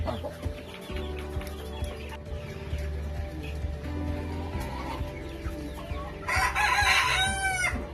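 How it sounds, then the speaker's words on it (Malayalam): Thalassery native chickens on a small farm raising local hens: steady clucking with a rooster crowing loudly near the end, against a constant low background hum. "ഇത് തലശ്ശേരി കോഴി അല്ലേ"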